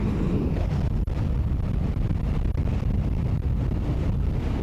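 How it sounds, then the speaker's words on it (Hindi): Strong wind roars loudly and steadily into the microphone during a motorcycle ride in Nepal, with constant low buffeting and occasional brief dips, and no voices. "ये देखो कितनी ज़ोर से हवा की आवाज़ आ रही है।"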